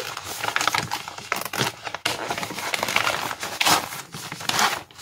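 Plastic packaging crinkling and rustling as a Butterfly Fairy cross-stitch kit is unwrapped, dense and close, with irregular crackles and handling bursts continuing throughout.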